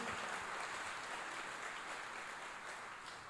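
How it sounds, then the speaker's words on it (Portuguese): Church congregation applauding, a steady wash of many hands clapping, faint and somewhat distant, slowly tapering off over a few seconds with no talking. "Aplaudam o nome do Senhor Jesus."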